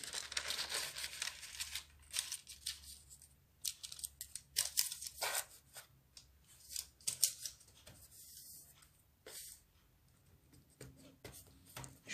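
Pre-cut parchment paper being placed into a tart pan, giving a series of crisp rustling and crinkling sounds and soft taps, close by and fairly quiet, with no talking.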